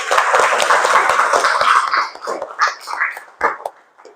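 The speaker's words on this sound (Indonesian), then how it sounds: "Tepuk tangan untuk hari ini." A class of seventh-grade students claps together in a burst of applause that starts dense and loud, then thins into scattered claps and fades out, with faint voices mixed in.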